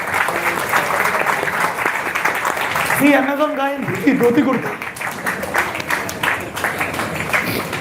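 An audience at a talk at IIT Hyderabad breaks into sustained applause, a dense wash of clapping that continues while someone speaks over it.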